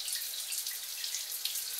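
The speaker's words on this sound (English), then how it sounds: "You can see that the water has very low pressure, and that means I use a lot less water when I have a shower." Low-pressure shower water runs steadily in a home bathroom, a constant close hiss of spray with no talking.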